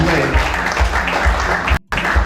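Loud, continuous clapping from a summit audience in Ado-Ekiti fills the room, with a brief cut near the end before the applause resumes at full strength.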